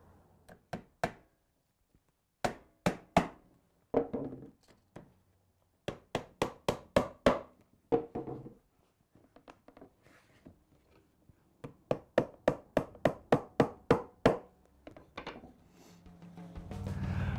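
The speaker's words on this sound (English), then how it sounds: "hammer that home on the next one." Hammer blows knock glued, angled wooden boards of a coopered chest together in a garage workshop, sharp close taps in quick clusters with short pauses, some runs of rapid strikes.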